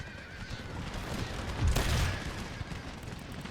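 Dense musket gunfire fills a battle in the video game Empire Total War, a continuous rumbling crackle of volleys that swells into a heavier burst near the middle, with horse whinnies mixed into the din.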